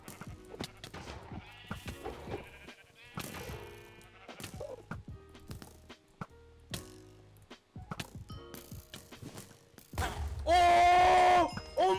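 Sheep bleat amid thumps and clatter in the Minecraft SheepWars game, with scattered sharp impacts and brief bleats. A loud, sustained tonal burst closes the sequence.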